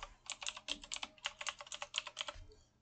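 Quick, close keystrokes on a computer keyboard as a wallet name and password are entered, about twenty crisp clicks in an even burst that ends abruptly.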